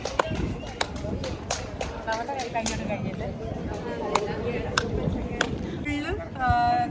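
Sharp hand claps ring out against a marble wall of the Taj Mahal, about a dozen irregular slaps over several seconds amid crowd chatter and nearby voices.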